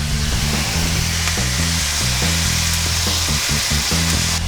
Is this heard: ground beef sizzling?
yes